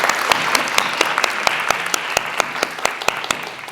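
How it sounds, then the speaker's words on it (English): An audience at the 2022 LISD spelling bee applauds, a dense, steady wash of many hands clapping close by, with individual sharp claps standing out and a faint voice underneath. "Round of applause for the third round."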